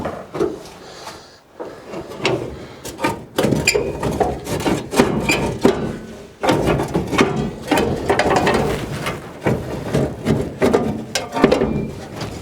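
A flathead screwdriver works a stubborn screw loose on a 1940 Chevy Dubl Duti truck, giving close, repeated ratcheting scrapes and metallic clicks in uneven bursts.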